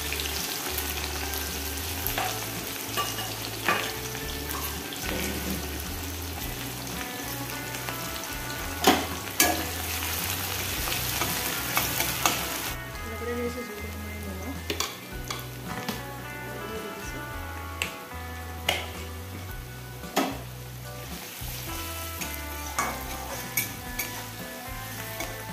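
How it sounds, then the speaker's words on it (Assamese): Chopped onions and garlic sizzle steadily in a hot pan for an Assamese fish curry, a continuous close frying hiss broken by occasional clinks and stirring scrapes, with no talking. "দি দিছোঁ কাটি থোৱা পিঁয়াজখিনি"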